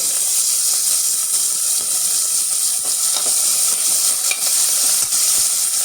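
Chopped onions and green chillies fry in a hot pan, giving a steady, close and continuous sizzle and hiss that stays even throughout, with no talking.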